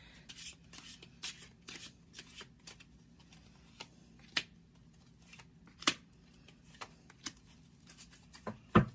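Tarot cards shuffled and drawn during a Pisces reading: soft papery riffles and scattered crisp snaps and taps over about nine seconds, close and fairly quiet, with no talking.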